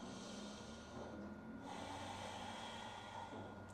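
A long, slow breath taken while holding downward dog during a yoga flow, a soft steady airy hiss lasting several seconds, close and quiet with no talking.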